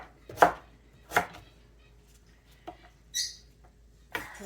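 Cabbage is chopped with a Cutco knife, giving a handful of sharp, separate thunks on a board with quiet pauses between them and no talking.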